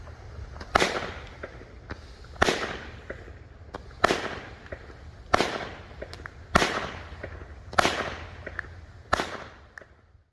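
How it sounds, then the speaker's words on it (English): A flying fish firework bursts repeatedly, seven sharp loud explosions at roughly even intervals, each followed by a brief crackling fizz as small balls of light shoot off in different directions. "After the explosion, the small balls of light shoot off in different directions."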